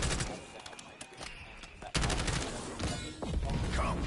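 Rapid gunfire from a gun in a video game, bursts of repeated shots with a louder onset near the middle, close and dense, with game effects layered underneath.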